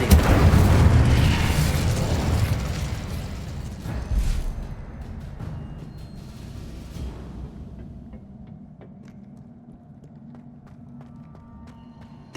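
A fire spell erupts in the video game Hogwarts Legacy, a loud roaring burst with booming impacts in the first seconds that fades into a quiet ambient hum.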